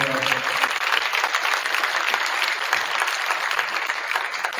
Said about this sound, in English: So, round of applause for our coaches.